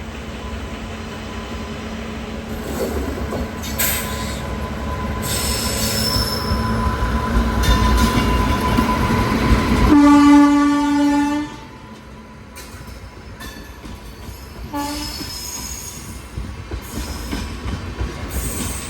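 A Central Railway train in the Mumbai division, the CSMT–Mangaluru service, brakes with a loud rumbling roll and a sharp, sustained metallic wheel squeal partway through, then eases into quieter clatter.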